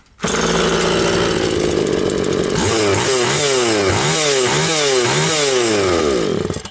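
An Oleo-Mac GS35c chainsaw with a new piston ring runs loud and close after starting, first a steady drone, then rising and falling engine revs in repeated sweeps.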